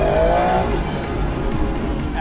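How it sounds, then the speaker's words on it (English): An Aston Martin V12 Vantage S with its 12-cylinder engine roars loudly and continuously through its exhaust, a sustained high-revving drive-by note with a brief tire-squeal-like whine at the start. "Absolutely beautiful noise that you only get from a 12-cylinder engine."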